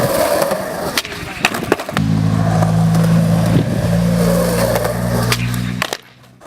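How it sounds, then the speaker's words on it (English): A skateboard rolling hard on pavement during a late double hardflip attempt, with a loose truck rattling. A loud steady grinding roll is broken by sharp clacks and impacts, then cuts off near the end. "you can hear my truck loosen in that one"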